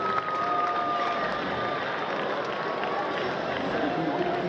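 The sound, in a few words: applause from the baseball crowd after a diving catch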